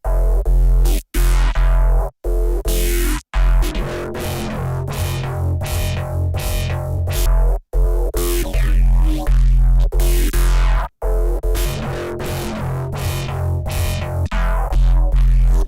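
Phase Plant software synth sequencer switching to a different sequence, playing a dense, loud electronic pattern with heavy sustained bass and bright repeated notes, broken by several short hard gaps, with no talking.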